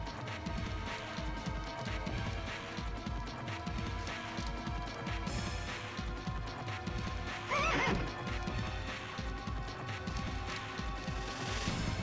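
A horse neighs in the PS1 game The Legend of Dragoon, one loud whinny rising around the middle, set against busy, steady game music with rhythmic clip-clop hoofbeats throughout.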